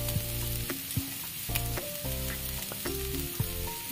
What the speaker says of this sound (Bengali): কড়াই যে সমস্ত দিয়েছিলাম সব নাড়াচাড়া করে ভেজে নিয়েছি